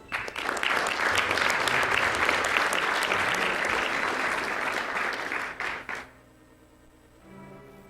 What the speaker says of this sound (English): Yeah, let's give ourselves a round of applause.